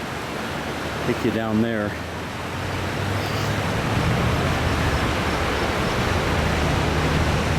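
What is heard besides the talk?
river flowing under a bridge at Pagosa Hot Springs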